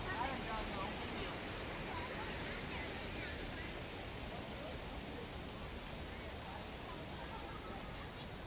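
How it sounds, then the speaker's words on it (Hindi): Loud, steady rushing water at Damodar Kund in Junagadh, a broad continuous roar like a waterfall filling the whole clip close by, with no clear voices over it. "इतनी तेज पानी की आवाज आ रही है।"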